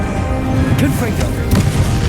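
A Confringo blasting spell explodes during a boss fight against Ranrock in Hogwarts Legacy, giving short bursts over a busy, continuous game soundscape with music and voices.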